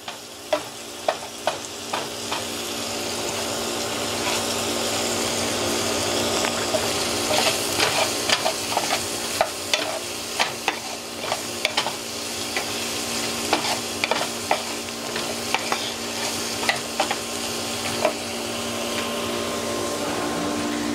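Food cooking in a pan for a Hello Fresh meal, a steady sizzle running throughout with repeated sharp clicks and scrapes of a utensil stirring it, close and moderately loud with no talking.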